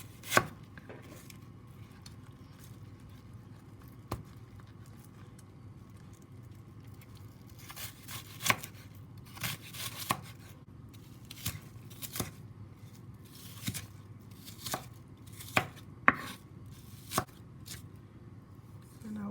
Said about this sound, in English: We'll also dice some red onions.